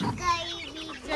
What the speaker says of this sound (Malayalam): എടി ഒരു കോഴി കൂടി ഉണ്ട് അപ്പുറത്ത്.